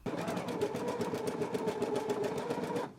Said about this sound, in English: I'm going to go ahead and stitch it in a 5/8 of an inch seam allowance now